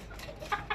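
Farm chickens, Egyptian fayoumi hens kept in a cage, give a few short clucks close by over low background noise.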